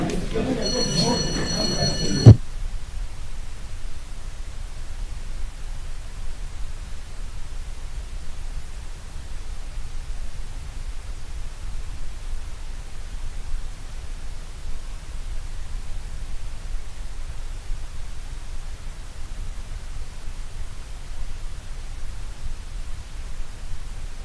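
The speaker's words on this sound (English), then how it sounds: "Sergeant at Arms, can you ring the division bell for 2 minutes?" An electric division bell rings in the Senate chamber during a county sitting, a short metallic ringing at the start that quickly gives way to a long stretch of steady hiss.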